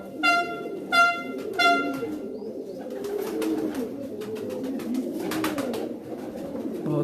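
A female pigeon coos on a rooftop loft in Mianwali, with three clear, evenly spaced coo calls near the start. Steady background clatter and murmur continue under and after them.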